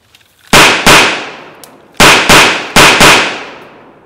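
Loud gunshots in a shootout: seven sharp, close blasts, each leaving a long ringing decay, fired in clustered pairs and a trio.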